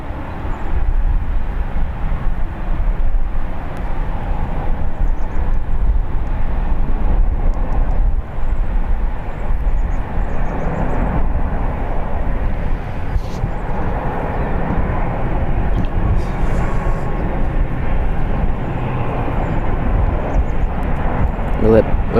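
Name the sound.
Boeing 777 airliner landing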